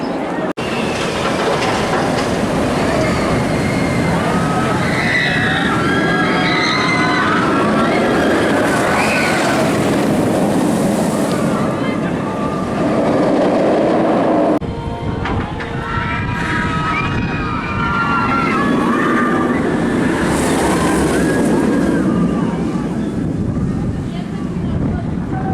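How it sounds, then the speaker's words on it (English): Shambala, a B&M hyper roller coaster at PortAventura, rushes loudly and continuously for the whole ride, with wind buffeting and rumbling track noise, rising and falling through drops, with faint screams or voices mixed in. "Shambala is an absolutely incredible roller coaster, a B&M hyper coaster."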